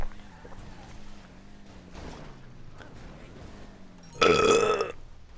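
Loud, gurgling burp erupting near the end after a stretch of low, murmuring sounds, a single long raspy belch that dominates everything before it.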